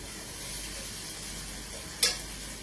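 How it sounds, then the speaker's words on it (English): Seasoned chicken breast chunks simmer in a pan with a soft, steady sizzle, broken once by a brief sharp clink. "I'm going to add that in and we're going to let that sort of simmer away"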